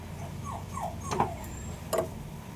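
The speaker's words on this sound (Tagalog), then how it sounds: "Excited na sila oh. Umiiyak-iyak pa si Clover" A dog whimpers excitedly in short, high, rising whines, a few soft cries close by over a quiet background.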